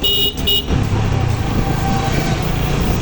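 A Hero 125 motorbike engine running while riding, a steady low rumble that continues throughout, with a short horn-like toot near the start.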